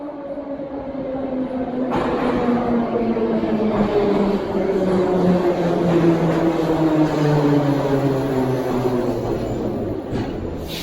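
A Tashkent metro train on a quiet Sunday, heard from inside the car: a steady rumbling roar with whining motor tones that slide in pitch as the train speeds along, loud and continuous.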